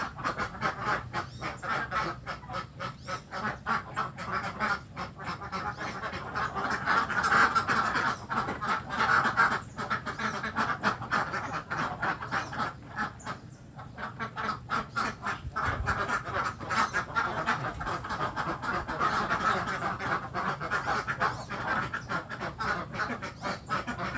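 Laying ducks on a duck farm quack steadily as a dense, continuous flock chorus, loud and close throughout with no talking.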